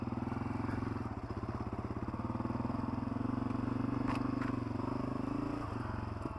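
A Honda CRF250F dirt bike rides single-track trail at an easy pace, its engine a steady close buzzing drone throughout with faint scrapes and clatter from the trail.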